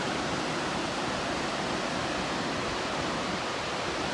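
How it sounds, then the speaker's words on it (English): A waterfall roars near a river trail, heard as a dense, steady wash of broadband noise that holds at an even level throughout, with no voices over it. "That looks like the falls we were looking for"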